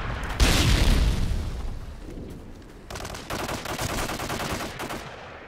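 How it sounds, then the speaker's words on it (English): A Predator missile strike in a Vacant team deathmatch video game: a loud, close blast at the start with a long rumbling decay, then sustained crackling rattle of gunfire through the rest. "Friendly Predator missile incoming."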